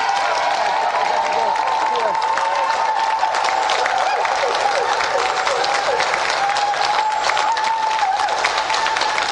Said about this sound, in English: let's have another round of applause for Carl Roberts and Raza Abduli